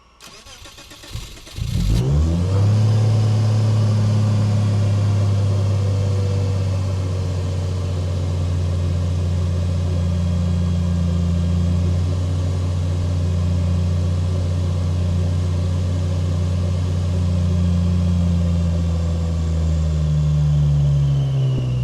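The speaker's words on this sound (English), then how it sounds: "I bought a couple of microphones to try and capture the engine sound." A supercharged Ford Raptor engine cranks briefly, catches, and settles into a loud, steady, deep idle that holds close and constant with a low droning hum.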